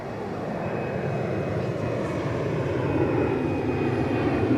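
An airliner climbing after takeoff at Edinburgh Airport produces a steady, broad jet engine roar that builds slightly in loudness, heard alone without talk.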